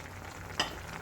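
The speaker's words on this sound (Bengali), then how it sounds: "তো এখন আমি দিয়ে দিলাম ঢ্যাঁড়স আর ভেজে রাখা চিংড়ি মাছ। এরপর চলুন এটা ভালোভাবে মিক্সড করে দিই।" Okra and fried prawns in a curry pot, a low bubbling sizzle with one quick stirring scrape in the middle of a very short stretch.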